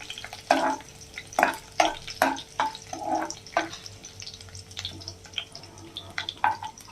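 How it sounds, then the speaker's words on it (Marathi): Ginger and garlic frying briefly in a pan for egg rice, a spatula stirring with repeated scraping clinks over a low steady sizzle, close and moderately loud. "आलं आणि लसणाला थोडंसं 1-2 सेकंद फ्राय करून घेऊया."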